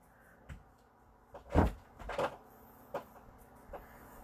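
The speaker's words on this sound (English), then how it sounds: "Can you shut that door, please?" A door in an indoor room is shut, with a few soft thuds and knocks spread over a few seconds, faint against a quiet background.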